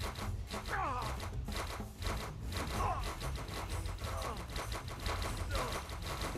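Rapid bursts of gunfire at a shooting range in the VR game Battle of Kings rattle in quick repeated volleys, with brief higher whizzing sounds mixed among the shots.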